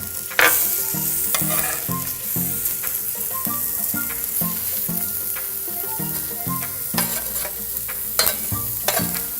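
Pork sausage patties and scrambled eggs fry on a griddle with a loud, steady sizzle. A regular series of thumps and scrapes from a spatula runs through it, with no talking.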